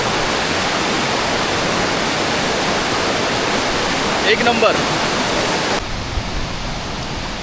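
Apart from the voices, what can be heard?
waterfall beyond Anuskura ghat, rushing water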